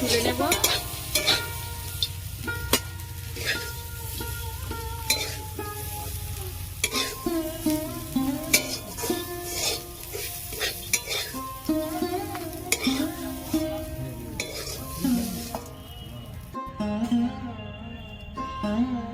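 Betho greens with poppy seeds, lentil dumplings and peanuts sizzle and crackle in a pan while a utensil stirs and scrapes at an irregular rhythm, with background music playing throughout.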